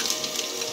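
Cumin seeds hitting hot oil in a pan with asafoetida, cloves and cardamom for Punjabi rajma masala, giving a short, steady, close crackling sizzle like light rain, with no talking.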